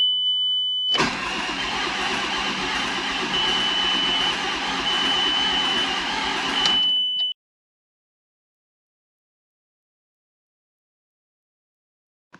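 Nissan R32 engine, restored after sitting eight to nine years, cranks and fires into a loud, steady idle that runs about six seconds before cutting off abruptly to silence.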